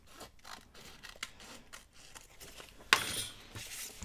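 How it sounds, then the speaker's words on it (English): Scissors trim oversized paper document holders for journal pockets: a run of soft, close, quiet snips, then a sharper crinkle of paper near the end. "Cutting these a little bit too big, so I'm having to trim them off."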